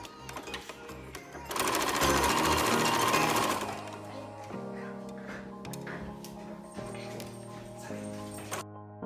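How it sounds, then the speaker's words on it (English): A sewing machine stitches a 5/8-inch seam on pajamas rapidly in a loud burst, then keeps a slower rhythmic mechanical whir under soft background noise. "meet me at the sewing machine. We're sewing our 5/8 seam allowance again"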